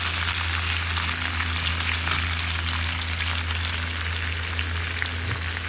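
Vegetables sizzle and crackle in a hot frying pan, a loud, dense, continuous hiss with a steady low hum beneath it.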